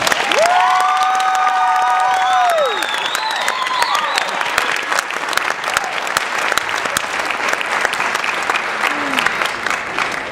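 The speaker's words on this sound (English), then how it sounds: "Can we have a round of applause?" An audience applauds a high school choir at a Christmas concert, with loud sustained clapping throughout, a few high whoops and cheers near the start, and crowd voices mixed in.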